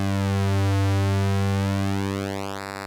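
Moog Mother-32 synthesizer oscillator holding one steady buzzing pitch while its pulse width sweeps, the tone shifting and thinning into a bright, nasal edge near the end, with no talking.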